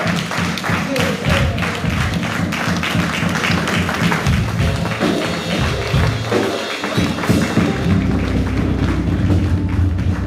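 Congregation at a Pentecostal Church of God in Christ annual convention applauding, dense steady clapping throughout with speech and music mixed in underneath.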